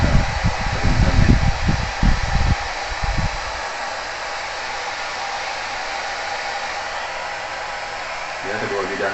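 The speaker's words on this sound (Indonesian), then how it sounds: "Ya, kedua bidangnya kita hair dryer." A hair dryer blowing to dry UV glue between glass pieces, a loud steady whooshing hiss that runs throughout, with handling bumps early on and a brief voice near the end.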